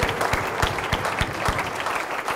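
A church congregation claps at a service, bursting into steady, dense applause that stays loud and close for the whole stretch, with no voices breaking through.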